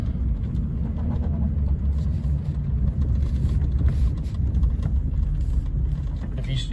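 An LBZ Duramax diesel pickup truck in limp mode rumbles steadily with a deep, muffled engine drone heard from inside the cab, held near a 2,000 RPM limit, with faint talk in the background.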